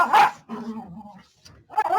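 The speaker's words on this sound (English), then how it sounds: "the dogs are playing." Dogs at play bark and yip in close, loud bursts: a sharp bark, a lower drawn-out growly vocalization, then more quick barks.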